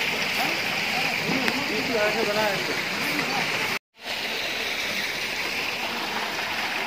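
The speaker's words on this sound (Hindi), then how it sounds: "यहाँ पे पानी आ रहा है ना तो देखो कैसे घूम रहा है" Swirling water rushing through a mountain stream in Himachal, a constant close gurgling flow that a person talks over, broken by a brief cut to silence partway through.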